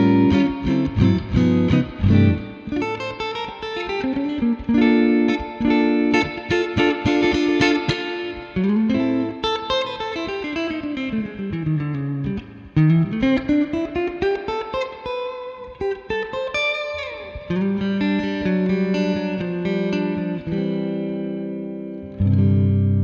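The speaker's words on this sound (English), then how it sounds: "Let's turn the reverb on and make sure that that's working." An electric guitar through a 1970 Fender Twin Reverb amplifier plays sustained, distorted chords and bending notes, drenched in a splashy spring reverb that lingers after each phrase, loud and alone without talk.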